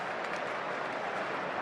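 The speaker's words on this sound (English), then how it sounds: "Up there you can see all those hands clapping together." A cricket crowd at the Adelaide Ashes Test applauds a batsman's fifty, with steady dense clapping and cheering that roars continuously from a distance, broad and unbroken.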